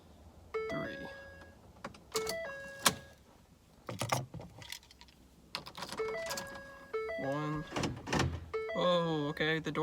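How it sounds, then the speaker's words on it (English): Door locks on a 2011-2014 Ford F-150 with a remote starter kit clunk several times in short sharp clicks, mixed in with people talking nearby. "Oh, okay, the door's locked."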